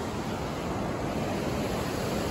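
A large creek roars beneath a bridge in Yellowstone National Park, a steady, loud, broadband rush of water with no pauses, heard alone.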